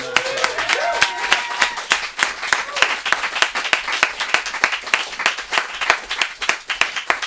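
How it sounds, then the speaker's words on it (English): Audience applauds sponsors at a live Portland show, a steady stretch of distinct individual claps from a modest crowd, close and crisp, with a voice briefly heard at the start. "So a round of applause for them."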